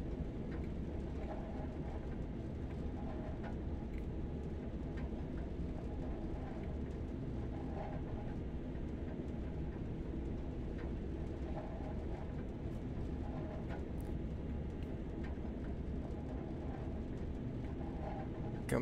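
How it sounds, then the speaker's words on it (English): Freight goods train rolling past in the Train Sim World 2020 game, a steady low rumble of wagons sustained and unbroken, fairly quiet with faint clanks throughout. "Got to wait for that goods train to clear before we can go."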